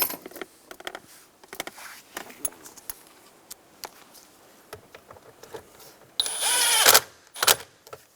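A power tool runs in two short bursts, snugging down screws on a 2000-2006 Toyota Tundra combination switch, preceded by faint clicks and handling taps at close range.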